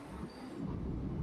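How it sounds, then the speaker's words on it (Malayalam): The Kanyakumari Vivek Express approaching a station as a low, faint rumble of wheels and carriages that builds slightly. "നമ്മുടെ ഇന്ത്യയുടെ first longest running ട്രെയിനായ Kanyakumari തിരുപ്പൂർഗഡ് Vivek express ആണ് എത്തുന്നത്."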